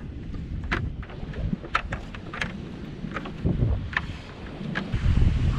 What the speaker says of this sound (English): offshore wind.